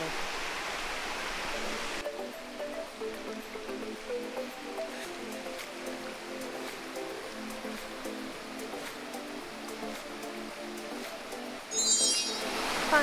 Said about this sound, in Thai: ก็มาอยู่ที่ลำธารแล้วนะคะ